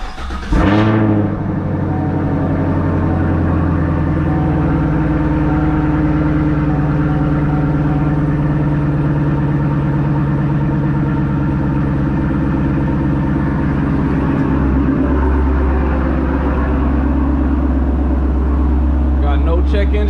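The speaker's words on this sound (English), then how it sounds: "Let's cut her on. See what she sounds like." A 2019 Chevrolet Camaro SS V8 with a Roto-fab cold air intake and dry filter turns over and settles into a loud, deep, rumbling idle, holding steady with a brief rev blip partway through.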